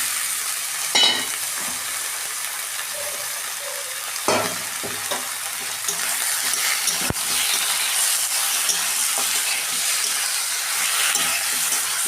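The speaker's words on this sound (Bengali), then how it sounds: "মাংসটা আমি একটু ভাজা ভাজা করে নেবো পেঁয়াজের সঙ্গে" Chicken pieces frying with softened onions in a pan give a steady, fairly loud sizzle throughout, broken by a few sharp scraping stirs of a spoon.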